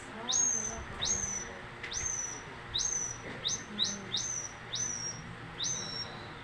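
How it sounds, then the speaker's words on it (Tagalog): A tampios, a piece of bamboo used as a bird lure, whistles eight or nine sharp rising-then-falling chirps at a steady rhythm. The calls are clear and close, over low outdoor background noise. "Tampios is a piece of bamboo that they use to attract birds."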